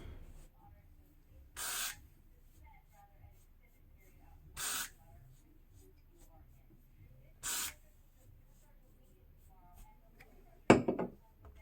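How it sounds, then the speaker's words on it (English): Three short bursts of Got2b glue hair spray hiss at an even pace, each about a second long, with quiet gaps between and a brief clatter at the end. "I'm going to take my Got2b glue spray, and I'm just going to secure the front part first."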